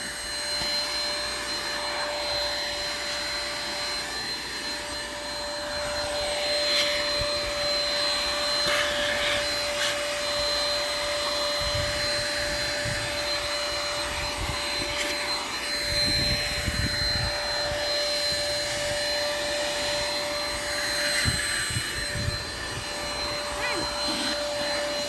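A vacuum cleaner runs continuously in a garden while sucking up pests, a loud close roar with a steady whine and intermittent rattling thumps, and voices talking faintly beneath it.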